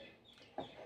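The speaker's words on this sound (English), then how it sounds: "can hear the birds" Outdoors, a bird gives one brief clucking call, faint and somewhat distant, against quiet background air.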